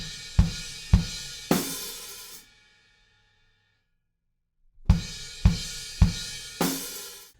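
Drums play a crash cymbal pattern in a pop-punk song: three hard crash hits with kick, a ringing decay into silence, then four more evenly spaced crashes, loud and close.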